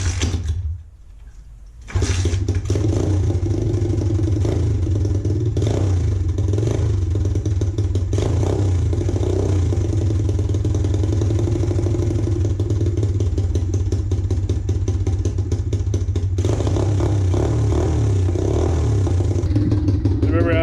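Pit bike engine after carburetor repair, cranking briefly then catching and running continuously with a loud, close, rattly buzz that holds steady throughout.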